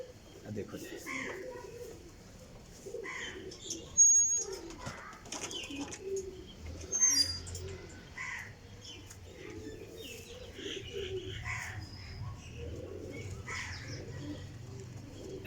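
Soft, repeated cooing from high flyer pigeons, with a few chirps, runs under steady conversation, and a couple of louder knocks stand out near the middle.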